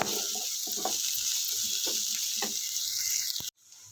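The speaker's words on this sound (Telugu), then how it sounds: "ఇప్పుడు పోయిని మంచిగా వేపించుకోండి గోల్డెన్ బ్రౌన్ కలర్ రావాలండి" Sliced onions fry in a pan over medium heat for a Telugu bitter gourd (kakarakaya) fry, giving a steady broad hiss with soft clinks of stirring, cut off abruptly near the end.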